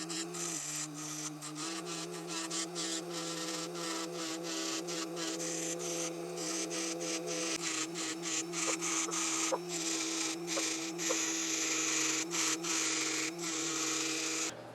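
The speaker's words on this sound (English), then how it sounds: "let's get started by grinding this up and getting our brazing alloy laid in here" Grinding on metal of a badly broken four-jaw lathe chuck ahead of brazing: a steady close motor whine with a rough, rasping scrape running continuously for the whole stretch, no talking.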